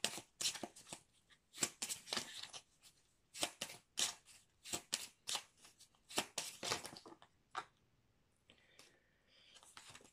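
Oracle cards from a shadows-and-light deck are shuffled by hand in quick bursts of crisp riffling and flicking, close and fairly quiet, pausing briefly before softer handling at the end, with no one talking.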